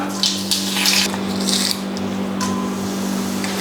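Mustard seeds sputter and crackle in hot coconut oil while a Kerala egg curry is being started, giving a continuous sizzling hiss with sharper popping bursts over a low steady hum.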